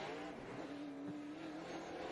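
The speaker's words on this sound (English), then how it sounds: "On to the Speedway now comes a very familiar looking race car." A race car rolls onto Cordele Motor Speedway during qualifying for the UARA National Tour World Crown 300, its engine a steady, fairly close drone that holds an even pitch for a couple of seconds.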